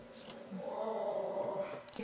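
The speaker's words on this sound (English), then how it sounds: "You hear my dog growling in the background." A dog growls in the background as a low, sustained rumble that swells midway and holds through most of the two seconds, moderately loud with no speech over it.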